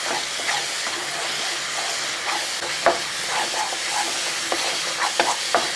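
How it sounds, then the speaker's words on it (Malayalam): Chakka varattu, a thick jackfruit preserve, stirred in a pan after a spoonful of ghee is added, producing a continuous loud hissing sizzle with intermittent soft scraping and thuds of the spoon, close and without talk. "ഒരു 5 മിനിറ്റ് കഴിഞ്ഞ ശേഷം നമുക്ക് ഒരു സ്പൂണ് നെയ്യും കൂടെ ഒഴിച്ചു കൊടുക്കുക. അതിന് ശേഷം ഇളക്കി കൊടുക്കുക."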